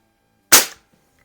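A single sharp shot from a rebuilt Sheridan Blue Streak F series CO2 air rifle, a close crisp crack that fades quickly into silence.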